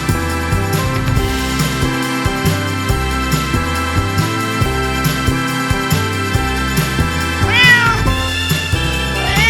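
A cartoon orange cat's meows sit over bright, rhythmic children's music, with a clear rising-and-falling mew near the end.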